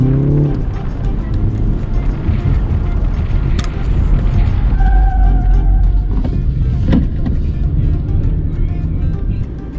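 A BMW 330i M Sport G20 cornering at 40 km/h, heard from inside as a steady, loud road and engine drone that stays even throughout, with brief tyre or chassis noises partway through.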